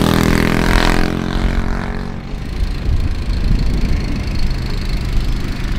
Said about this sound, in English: I'm going to hop on a two-seater rental cart,